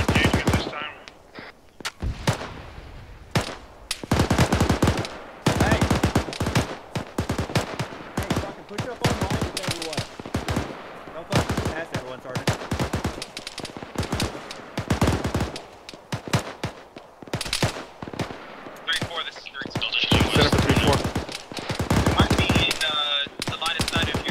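Sustained gunfire in the military shooter game ARMA 3, dense bursts of machine-gun and rifle shots crackling close and loud, broken by brief pauses, with radio chatter between volleys.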